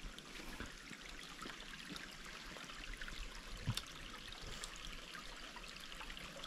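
A small river stream flows steadily through lush vegetation near an old copper mine in the Hérault, a constant close trickling wash with a brief splash midway and no talking.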